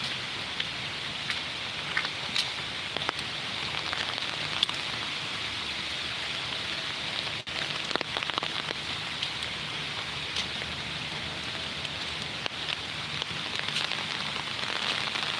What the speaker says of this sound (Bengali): হালকা বৃষ্টি হচ্ছে